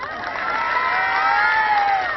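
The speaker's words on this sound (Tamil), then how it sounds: "இந்த இடத்துல தாய்மார்கள்லாம் எனக்கு கைத்தட்டு." An audience of mothers at a school event claps and cheers together, a dense, loud wash of applause and shouts that swells after the start and holds steady throughout.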